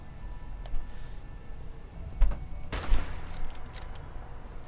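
Automatic turrets firing in the Fallout 76 video game, a few scattered bursts of gunfire at moderate distance over steady background ambience, no talking.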